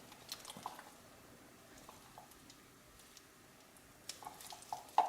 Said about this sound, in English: So I'm going to add in the coconut milk, and it's quite thick,